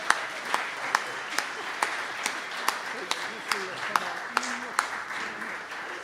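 Audience applause at the Australian Folk Music Awards 2025, with sharp individual claps standing out over steady clapping from the hall and a few voices murmuring underneath across several seconds.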